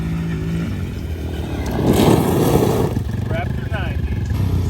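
Yamaha Raptor 90 ATV engine idling and revving while warming up, a steady close motor drone that swells in the middle, with voices talking over it.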